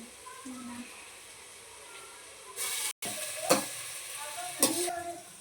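Tomatoes are stirred and fried in a hot pan for a vegetable mixture, a soft sizzle punctuated by a few sharp scraping strokes, close by, with faint voices in the background.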